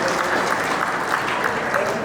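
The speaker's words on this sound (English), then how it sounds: "Ladies and gentlemen, a round of applause for Sadu." At a Samoan and Nigerian wedding reception, guests fill the room with steady applause for Sadu, a dense, continuous wash of clapping with a faint murmur of voices underneath.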